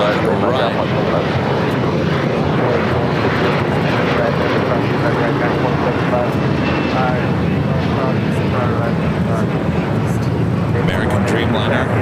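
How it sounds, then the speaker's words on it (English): A loud, continuous jet engine roar from an airliner taking off on runway 25 right at LAX, with a steady broadband rumble sustained throughout and no clear break. "Have a takeoff on 25 right."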